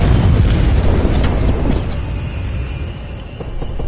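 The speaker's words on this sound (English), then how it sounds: "Strafe run incoming on your location." Booming strafe-run explosions in the video game Call of Duty: Black Ops Cold War, a dense burst of loud blasts at the start that rumble and fade into scattered distant pops.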